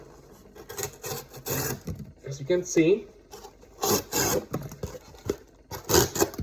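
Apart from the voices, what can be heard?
knife cutting cardboard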